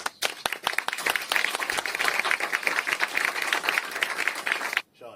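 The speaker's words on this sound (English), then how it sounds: "So please give her a round of applause." A round of applause from a small live audience, brisk overlapping claps that hold steadily for several seconds, then stop abruptly.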